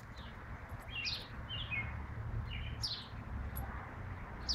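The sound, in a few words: bird attacking a baby squirrel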